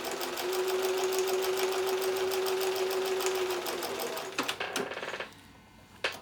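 A sewing machine runs steadily, stitching a quilt seam for a mosaic mini quilt, with a constant whirring hum for about four seconds, then stops, followed by a few clicks and the faint snip of thread.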